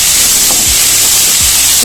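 Curry leaves, garlic, shallots and tomatoes sauté in a pan, giving a loud, steady hiss and sizzle, with a couple of brief low knocks from stirring and no voices.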